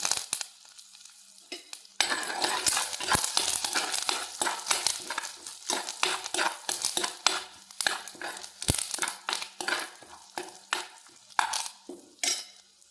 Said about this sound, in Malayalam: ഇളക്കി കൊടുക്കണം കറിവേപ്പില